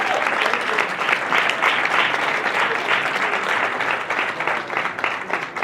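Sustained applause from an audience at a hotel seminar in Sandton, dense steady clapping filling the whole stretch at a fairly loud, even level without a break.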